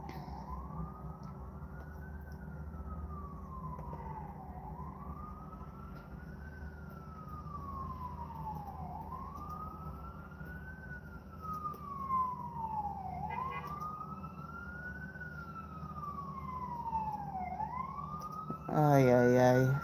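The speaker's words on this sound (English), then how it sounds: "I get so tired of these damn sirens." A wailing siren rises and falls steadily through several slow cycles, fairly close, over a low rumble of traffic, ending with a short louder honk.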